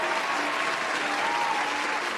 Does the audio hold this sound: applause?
yes